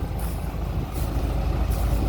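An Isuzu FRR240 six-wheel former garbage truck, now converted to a dump truck, runs its diesel engine loud and close, a steady low rumble that rises slightly in a short rev, with no talking.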